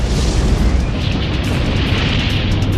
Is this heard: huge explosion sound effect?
yes